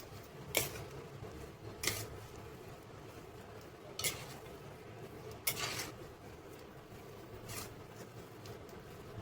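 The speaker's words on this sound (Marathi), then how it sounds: "आता हे परत छान मिक्स करून घ्यायचं आहे." Samosa filling with coriander is mixed in a pan, with soft, quiet scraping and stirring punctuated by five brief, sharper scrapes of a spoon against the pan, without any talking.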